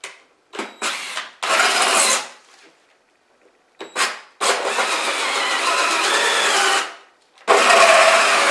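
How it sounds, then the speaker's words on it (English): A 3-inch hole saw on a power drill cuts through a 4x4 vinyl fence post, loud whirring bursts in several runs, short starts and then longer sustained cuts with brief pauses between. "Got a 3-inch hole saw."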